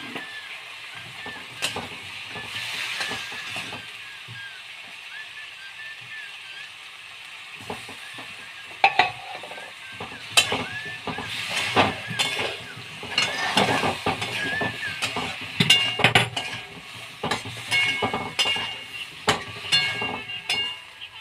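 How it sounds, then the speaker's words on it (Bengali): Spice masala of ginger, tomato, turmeric and salt sautéing in a pan with a little water, with steady sizzling and repeated scraping stirs that grow louder and more frequent toward the end. "সামান্য একটু জল দিয়ে মশলাটা কষাবো।"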